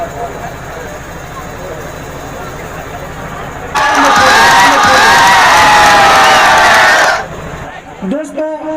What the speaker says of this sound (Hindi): इस सम्मान में अरशद बीसरू के लिए पब्लिक किस तरह से तालियां पीट रही है